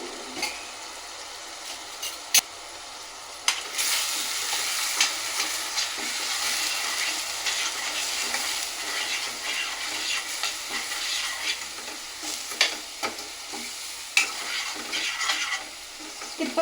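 Onions and spice paste sizzle and fry steadily in a pan for a fish curry, with a spoon stirring and scraping at intervals and a few sharp clinks, close and continuous with no talk.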